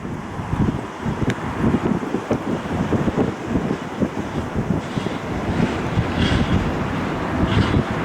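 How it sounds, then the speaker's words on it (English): Steady, roaring wind buffets the microphone at an airport, a continuous low rumble with gusty swells that grow stronger toward the end; no voices are heard. "Man, the wind has picked back up."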